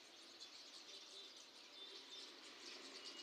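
A flock of mynas perched in a tree chatter and call faintly from a distance, a continuous thin twittering with no talk.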